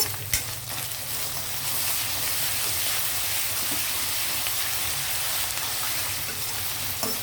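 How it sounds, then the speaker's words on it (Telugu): Onions, ginger and garlic fry steadily in hot oil for an Andhra-style mutton keema with ridge gourd, giving a close, continuous sizzle with faint stirring and no talk. "ఉల్లిపాయలు కొంచెం వేగయ్యి అల్లం వెల్లుల్లి కూడా వేగింది"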